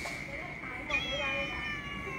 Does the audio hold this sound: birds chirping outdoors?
no